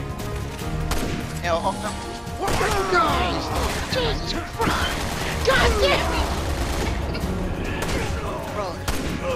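Gunfire during Resident Evil 6 gameplay: bursts of shots and impacts, with crashes and metallic clatter, dense and fairly loud, under excited players' voices talking and shouting.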